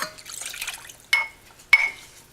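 Water is poured into carrot cake batter in a mixer running between low and medium, giving a light splashing trickle followed by two short, sharp liquid bursts, close and fairly clear with no talking.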